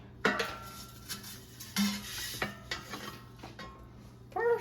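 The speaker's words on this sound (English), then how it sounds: "Let's take it out of the air fryer." Roasted broccolini comes out of an air fryer with light clinks and scrapes of a basket and utensils, a few soft knocks and rubbing sounds, close but quiet, with no talking.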